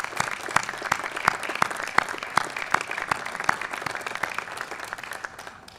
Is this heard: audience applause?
yes